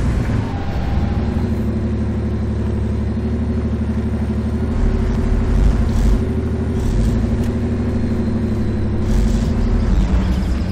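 A heavy truck engine in Spintires rumbles steadily as it reverses through deep mud, a continuous low, loud drone with slight swells in load and no talk.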